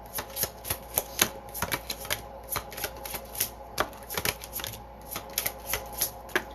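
A deck of reading cards is shuffled over and over nearby, giving quick riffling bursts and sharp flicks in an irregular, steady patter with no speech.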